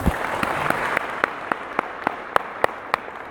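A small audience in a talk about taking care of one another breaks into light applause. Sparse, spaced claps ring out over a steady murmur of hands.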